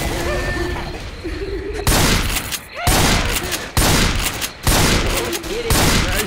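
Gunfire in the video game Left 4 Dead 2, loud, close bursts of rapid automatic fire repeating in quick succession with brief gaps, a voice speaking briefly near the start under the shooting.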